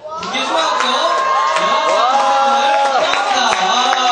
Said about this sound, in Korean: 제가 소개하면 큰 박수 좀 쳐주세요.